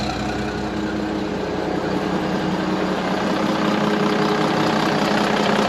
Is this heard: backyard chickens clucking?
no